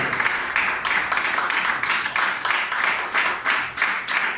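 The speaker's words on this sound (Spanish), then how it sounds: "Si lo cree, denle un aplauso al Señor. Déselo fuerte." Church congregation applauding loudly and steadily throughout, a dense wash of many hands clapping with bursts of louder swells, no voices standing out.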